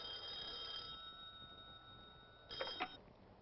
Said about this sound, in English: Will you answer your phone